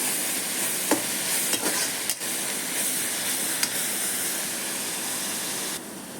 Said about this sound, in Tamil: வெங்காயத்தை நல்லா வதக்கிக்கணும்